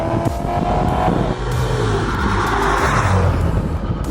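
A car engine roars hard and close, pitch climbing as it accelerates, loud and continuous with a rushing, straining tone.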